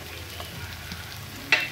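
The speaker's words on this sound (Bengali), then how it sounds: "তেলের মধ্যে সমস্ত মশলা খুব সুন্দর করে ভাজা হয়ে গেছে" Salt, turmeric and Kashmiri chilli powder frying in oil for a potol-prawn curry, a continuous sizzle with soft stirring scrapes and a sharp clink near the end, no voices.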